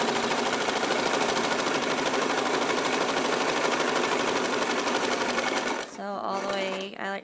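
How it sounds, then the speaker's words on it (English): A sewing machine runs fast and close while back stitching the fabric edge of a diaper wipe, a steady rapid mechanical chatter that stops near the end as a voice begins. "So put your needle in and then sew a little bit, back stitch, go again forward, staying close to the edge."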